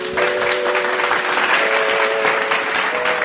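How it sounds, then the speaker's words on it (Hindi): Thunderous applause from an audience welcoming a singer onto a devotional music stage, dense steady clapping throughout, with a faint sustained musical tone underneath. "गोटे जोरदार करताली।"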